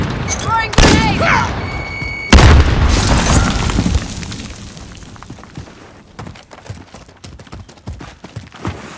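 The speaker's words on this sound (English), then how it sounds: "Throwing grenade." A grenade blast in the video game Modern Warfare booms loudly, followed by lingering rumble and scattered sharp cracks of gunfire, with a shorter loud burst just before it.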